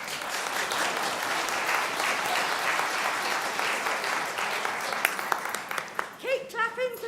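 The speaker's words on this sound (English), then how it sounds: "Keep clapping, because they deserve one." Dense, sustained applause from the audience at a Women's Institutes annual general meeting fills the hall, then fades out as a voice begins speaking near the end.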